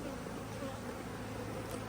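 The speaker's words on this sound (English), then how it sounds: "This is my packaged bees." A package of honey bees hums with a dense, continuous buzz, steady and close throughout with no talking.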